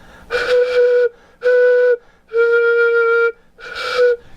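Four breathy flute notes, each held about half a second to a second with gaps between, airy and not sharply focused.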